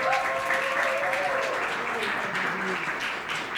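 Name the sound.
congregation applause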